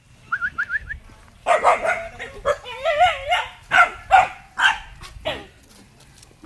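A dog in rural Sta. Rita, Samar, Philippines barks in a series of sharp, loud yaps with some whimpering, close by, while people talk in between the barks.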